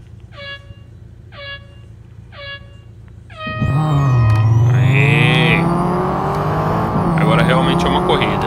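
In the Real Racing game, repeated short electronic chirps lead into a loud, close car engine that roars up and holds a high revving whine, with horn-like tones layered on top.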